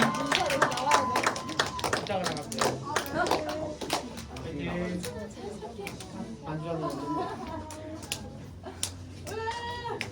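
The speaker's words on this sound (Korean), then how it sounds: "우리 박수로 한번 맞이해 볼게요" A group of children claps to welcome someone at a birthday party held during a church gathering, bursts of clapping mixed with excited kids' voices, squeals and chatter close by.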